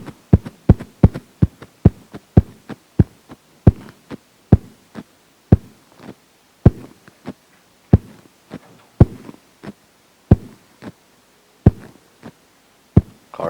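A heartbeat thumps steadily and loudly, a long run of evenly paced double beats that gradually space out, alone against a quiet background.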